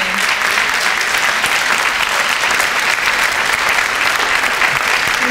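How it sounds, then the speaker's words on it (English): Loud, sustained applause from a large crowd at an employee recognition awards ceremony, steady clapping filling the whole stretch without a break. "round of applause for all of our recipients this evening"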